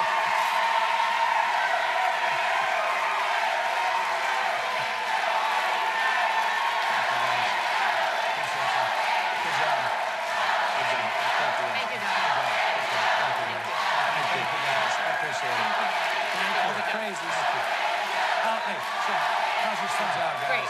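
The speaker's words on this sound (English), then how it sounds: "And now you're going to applaud, all right?" An audience claps and cheers at the close of a Kentucky gubernatorial debate between Governor Bevin and Democratic challenger Beshear, a dense, steady wash of applause and crowd noise lasting throughout with no gaps.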